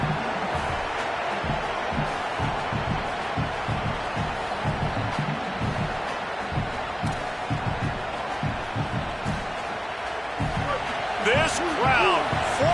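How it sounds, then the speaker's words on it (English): A football stadium crowd at a Missouri game roars in a broad, sustained wash of noise, with a commentator talking over it and the roar swelling near the end. "This crowd, full throat, spreading the eardrums and letting them know it's going to be a long day"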